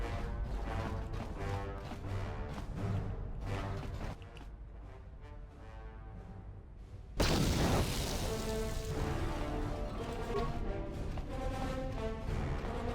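A droid blows up in Star Wars: Knights of the Old Republic 2, a sudden loud crash-like burst after a quieter stretch, followed by a lingering noisy rumble.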